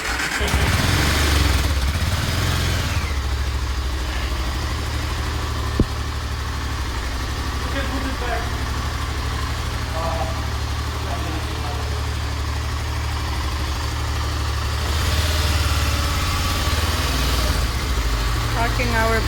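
Motorcycles idle close by while being parked at an entrance in Tajikistan, a steady low engine rumble running throughout with a brief sharp knock and some revving swells near the start and end.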